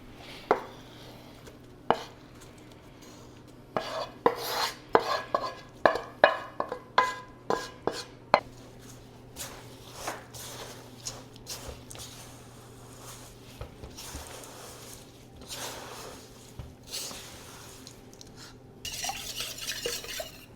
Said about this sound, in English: I'm going to get my apples and put them in with the oats, and then we'll combine all of the ingredients together